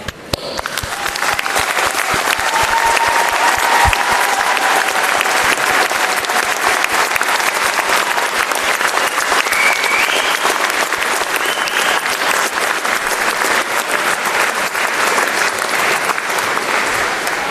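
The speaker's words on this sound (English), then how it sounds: "join me in giving a well-deserved round of applause" Graduates stand and applaud at a university graduation ceremony, a dense, loud, unbroken wall of clapping from a large crowd that holds steady throughout.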